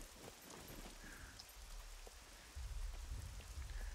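Rain falling in the video game SCUM, a soft continuous patter of drops with a low rumble swelling in the background, faint and steady.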